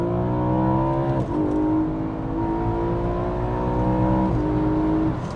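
Car engine, a BMW M3 E90 or Mercedes C63 AMG, accelerates hard through gears, a rising roar broken by two quick shift dips, loud and steady throughout.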